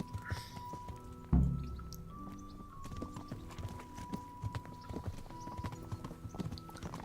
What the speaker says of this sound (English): get on our horse and ride out